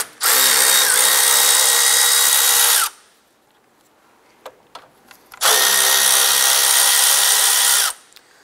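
A power tool loosens and removes two 10 mm radiator fan bolts on a 2007-2012 Nissan Versa. Two long, loud bursts of steady whirring are separated by a quiet pause with a few small clicks.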